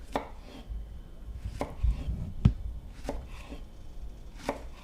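Knife chopping plantain into medallions in a kitchen, a steady series of sharp board taps at a relaxed, even pace with a few heavier thuds.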